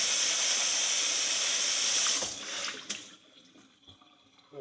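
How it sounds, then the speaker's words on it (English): Tap water streaming hard over steel wool at a sink, a loud steady hiss for about two seconds, then the flow cuts off, leaving drips and small clanks that fade to near quiet. "Go ahead and rinse out our steel wool."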